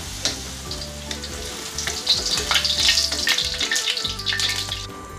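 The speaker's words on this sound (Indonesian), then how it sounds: "Goreng kentang sudah kekuning-kuningan ya teman-teman, tentunya sudah matang." Potato pieces frying in oil in a home kitchen pan give a steady, close crackling sizzle throughout, with bursts of spattering and occasional stirring scrapes.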